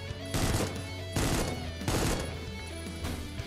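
Enemy gunfire in Supplice, a retro shooter: three loud, close bursts of shotgun-like fire at roughly even intervals, each ringing off briefly.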